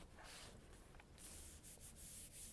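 Folded paper rubbed by hand to spread paint inside for a symmetrical butterfly print, giving soft, close scuffing strokes in a few short bursts, with no talking.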